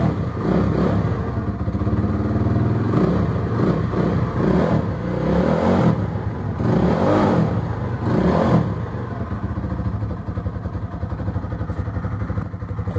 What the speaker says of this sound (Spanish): Bueno, ya nada más encendemos.